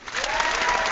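A brief burst of applause for Brother Jack Smack: a crowd clapping loud and close, a dense, steady patter lasting about a second.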